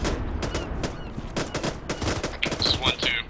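Sustained infantry gunfire in a military operation, with rapid overlapping shots and bursts crackling close and loud throughout, joined near the end by sharp high-pitched whines.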